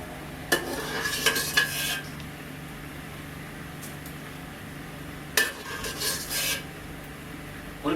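Whole spices and dried red chili fry in a pan of oil for bhuna gosht, a mutton curry, giving a soft steady sizzle with two bursts of scraping and clinking from a spoon against the pan.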